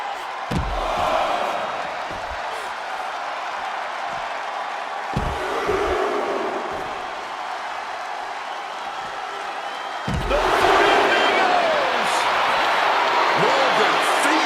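An arena crowd in the WWE 2K26 wrestling game roars steadily throughout, with heavy slams on the mat breaking through, under a commentator's ongoing play-by-play.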